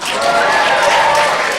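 A convention panel audience at Calgary Expo 2014 erupts in a short, loud burst of cheering, whooping and applause, a dense crowd roar from a packed room.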